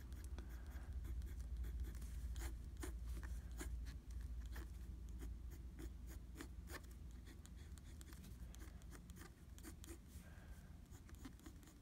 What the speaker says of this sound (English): both of the pens I'm writing with are Eversharp Symphony pens from the 40s